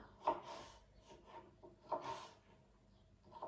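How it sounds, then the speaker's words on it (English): A kitchen knife slices half a pepper into strips on a cutting board, giving two soft, close cutting strokes with faint scraping between them. "So we're just going to cut our pepper into strips first."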